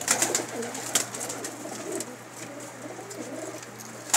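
Pakistani pigeons coo in low, soft, rolling calls throughout, close by on a rooftop in Makkah, with a few sharp clicks and ticks scattered over a faint steady hum.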